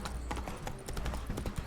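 Hooves of a horse in The Witcher 3 clip-clop in an uneven, fairly quick rhythm, close and moderately loud, heard alone over a short stretch.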